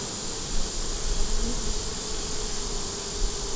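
Honey bees at an open, growing hive being checked, a dense continuous buzz of many insects close by with occasional louder passes.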